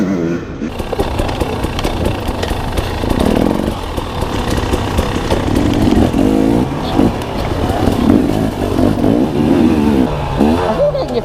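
A 250 dirt bike engine revs hard in repeated rising bursts between rough idling, loud and close, with a voice talking over it at moments.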